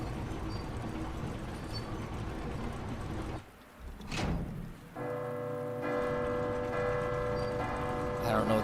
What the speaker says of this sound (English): I don't know what the purpose of doing the bell is other than making a bunch of noise